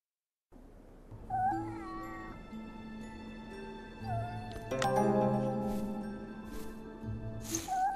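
A cat meows repeatedly in the PC game Fierce Tales: Feline Sight, with several drawn-out, wavering meows close up, set against soft game music tones.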